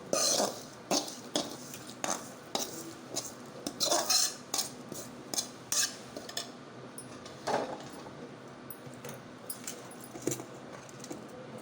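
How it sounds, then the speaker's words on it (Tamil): A spoon clinks and scrapes against a pan in short, irregular strokes while a lunch-box mixture of rice and sautéed coconut is stirred together, close and fairly quiet with no talking. "சேர்த்து எல்லாத்தையும் நல்லா கிளறி விட்டுருணும்"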